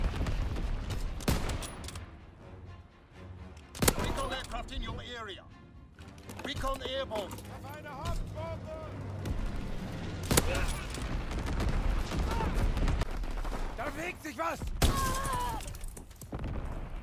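Gunfire bursts and heavy artillery blasts in a PS4 war video game, with sharp shots scattered throughout and loud booms near 4, 10 and 15 seconds, heard beneath almost continuous talking.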